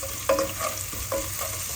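Onion with crushed ginger and garlic sautéing in a pan for a pulao, a steady close sizzle broken by a few scraping stirs of a spoon.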